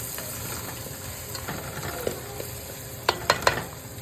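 Shrimp fry cooking in a pan as turmeric goes in: a steady low sizzle with stirring scrapes, then three sharper utensil clatters near the end, no talking.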